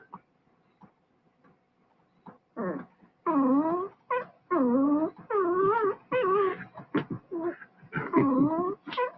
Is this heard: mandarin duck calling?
no